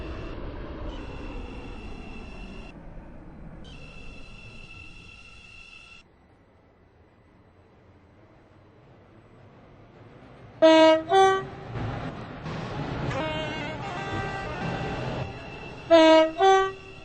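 A train in the Stepford County Railway video game rumbles into a station, with chiming tones, then a fading rumble and quiet, before loud repeated horn blasts over rising engine noise.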